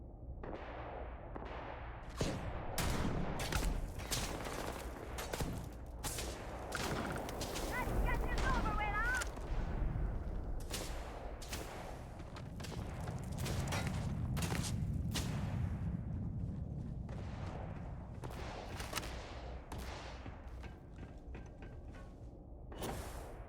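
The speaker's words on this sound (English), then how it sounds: "Jesus, they're shooting me from far away." Enemy gunfire in Starfield cracks in scattered bursts of sharp shots at varying distance, some quick runs and some single reports, over a low mechanical rumble and game sounds.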